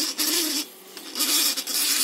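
An electric motor under a winding test runs with a buzzing, ringing hum and a rough, rasping rattle that swells and dips; the motor is hard to start without a push.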